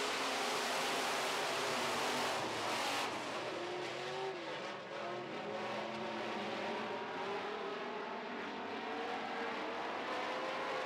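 Midwest modified race cars roar around a dirt track after the green flag, a dense, steady engine drone with rising and falling revs as the pack passes, and no voices.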